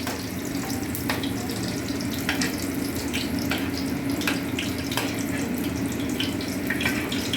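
Water trickling slowly into a hot pan of fried paneer for a healthy paneer curry, a steady close hiss and splash running throughout with faint scattered clicks, no voices.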